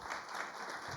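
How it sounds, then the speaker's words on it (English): Brief, soft applause from a policy conference audience for an energy-grid panel, a steady patter of many hands without speech over it. "a big applause for this panel."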